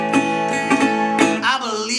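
A country blues guitar lick rings out in a few quick plucked and sliding notes, close and clear, with no talking.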